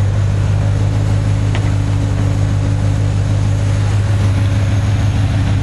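A 1978 Z car fitted with a V8 runs steadily under an open hood, its low engine drone and whirring fan holding even and loud throughout, with no talking.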